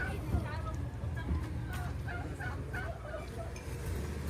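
Turkeys gobble in several quick, quiet calls at a family birthday gathering in the Philippines, set back behind murmuring voices and ambient noise.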